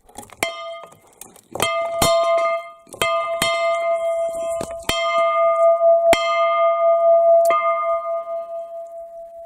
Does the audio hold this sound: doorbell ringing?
yes